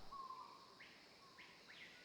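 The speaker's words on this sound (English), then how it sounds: "And the birds in here are so loud." Birds chirp in short, faint, high tweets inside an indoor room of the Nancy Drew Scarlet Hand video game, a few scattered calls over a quiet background.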